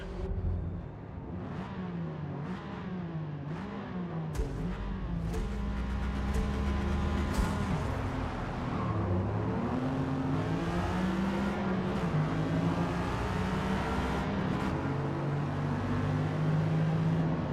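A baby powder blue Lamborghini Countach in Forza Motorsport, its engine droning and revving steadily with rising and falling pitch through the run, loud and continuous with no talk over it.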